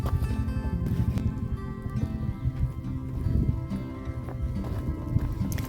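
Rescue horses moving about outdoors around pasture feed stalls, with steady clip-clopping hooves and shuffling close by, a dense low rumble of movement running through the whole stretch.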